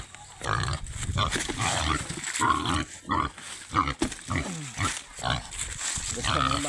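A pig grunts repeatedly close by, its rough snorts mixed with someone talking and steady background noise throughout.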